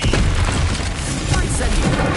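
A Stupefy spell cast in Hogwarts Legacy during combat, a dense booming burst with thuds and crashes filling the whole moment, loud and close, with a voice partly mixed in.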